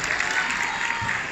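Dense, steady applause from a conference audience, a continuous wash of clapping with no voices above it.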